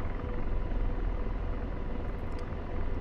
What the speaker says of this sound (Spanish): Pues aquí tenéis el sistema del helicóptero.